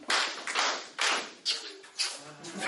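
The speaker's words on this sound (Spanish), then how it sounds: "Y el aplauso cariñoso" A group gives a stylized affectionate applause of five distinct bursts of clapping at a steady rhythm, each swelling and fading, with no talk over it.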